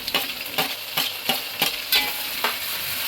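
Tomatoes stirred into onions frying in a pan, for a fish gravy: a steady loud sizzle with regular scraping strokes about every half second.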